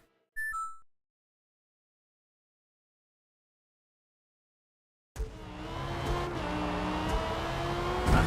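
A Mercedes 190E race car engine in the Forza Motorsport video game drones steadily and loudly after a brief chime and a long silence, holding a continuous high-revving whine to the end.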